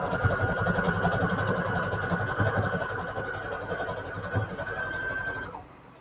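A sewing machine stitches lace and fabric scrap trim with a steady, close motor whir that runs evenly for several seconds, then cuts off near the end.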